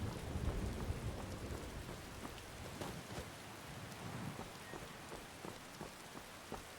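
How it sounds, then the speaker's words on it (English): Rain pours in the video game Skyrim, a dense hiss of drops on the ground with a low rumble of thunder early on and scattered sharp drips, steady and enveloping with no voices. "Listen to this rain, by the way. It sounds absolutely amazing and super immersive."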